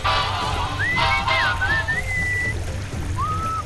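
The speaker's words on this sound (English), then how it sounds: "What is that enchanting whistling sound?" A melodic whistle in a video game rises and glides through a few wavering notes over a steady low hum and soft background noise.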